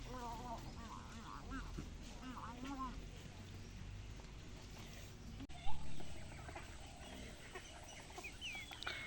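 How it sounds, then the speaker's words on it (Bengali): On a Black Bengal goat farm, ducks running in for food give scattered, nasal quacks and clucking calls under a person's talk, with one sharp knock midway. "হাঁসগুলো দৌড়ে আসলো খাবার জন্য"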